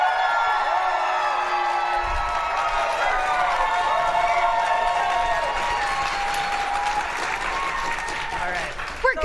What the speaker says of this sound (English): applause right now if you want to go to the hall.